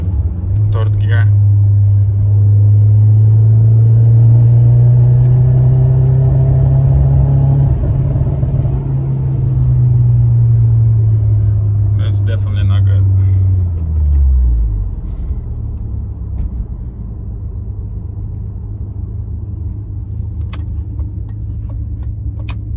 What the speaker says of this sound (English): the car starts shaking and misfiring